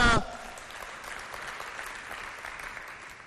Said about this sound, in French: Applaudissez très fort pour elles